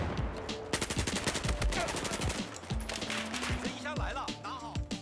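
Rapid bursts of assault rifle fire from the video game Battlefield 4, loud and sharp, repeating in quick automatic strings with brief pauses between them.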